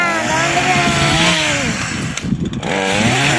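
A small chainsaw cuts into a tree, its engine loud and close, revving and bogging under load before dipping briefly and surging back up.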